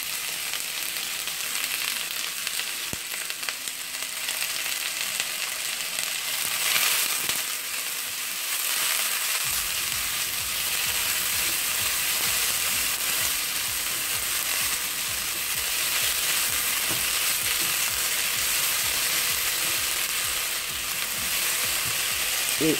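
A large, finely sliced onion goes into a hot roast sauce and fries with a steady, dense sizzle that holds for over twenty seconds, with soft stirring scrapes beneath and no one talking.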